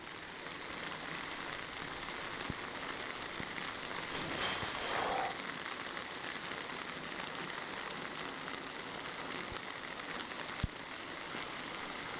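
Heavy rain falls in Vittorio Veneto, Italy, a faint, steady wash of drops heard from a distance with a brief louder gust midway and an occasional sharp tap.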